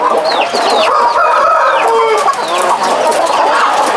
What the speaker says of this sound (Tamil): இதில் கோழி இருக்குது அதில் கோழி இனிமேல் தான் விட போகிறாங்க